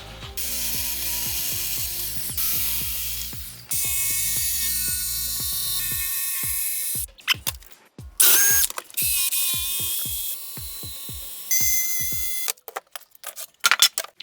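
A track saw, a circular saw run along a straight edge, cuts a half sheet of plywood in loud, close bursts of harsh whirring, broken by pauses filled with rapid, sharp mechanical clicking and rattling.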